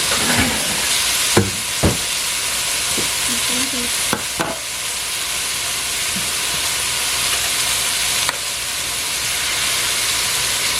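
Okra frying in a pot gives a loud, continuous sizzle, broken by several sharp scrapes and knocks of a utensil stirring and turning it, with no talk.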